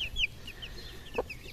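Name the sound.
Pekin bantam chickens clucking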